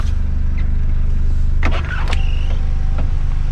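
A car sunroof motor whirs briefly as the sunroof opens over a steady idling car engine, with a couple of short mechanical clicks and movement noises.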